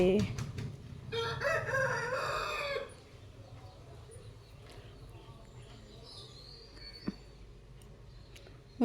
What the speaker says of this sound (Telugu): కోడి కాసేపు ఆగొచ్చు కదా